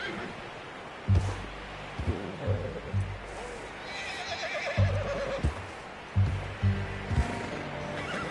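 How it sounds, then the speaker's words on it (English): A horse whinnies and snorts several times amid clopping hooves and rustling, with brief voices heard between the calls, in a video game. "Get that horse in line, Arthur."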